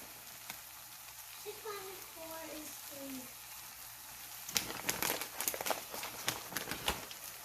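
Sausage and peppers fry in a single skillet for a keto dish, a quiet steady sizzle with a brief voice early on, then louder stirring scrapes and crackles in the second half.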